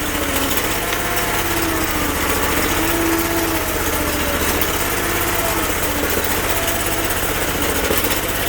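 A diesel Sears Bolens garden tractor engine runs steadily nearby in the snow, a continuous loud rumbling drone with a rapid low throb that holds even throughout, with some faint background noise.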